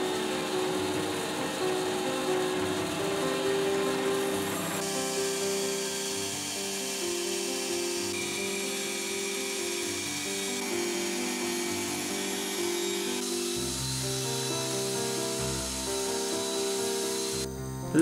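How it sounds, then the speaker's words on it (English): Bandsaw cutting straight-tapered wooden legs for a handmade grand piano, a steady loud whine with a constant tone running throughout, shifting slightly in pitch as the cut progresses. "You just cut these out on the bandsaw"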